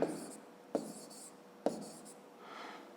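Pen strokes on paper as numbers are handwritten while adding columns for a fifth-grade maths exercise, with three sharp scratchy bursts roughly a second apart against a quiet room.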